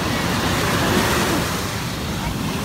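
Ocean waves wash onto a beach in a steady broadband roar, with wind buffeting the microphone, continuous and close.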